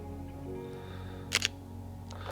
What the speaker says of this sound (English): In terms of shutter sound, I actually really like the XPro3 more.